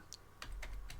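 Keys tapped on a computer keyboard during a remote desktop login on Linux, a few quiet, separate clicks in an uneven rhythm heard close up against a faint background hum.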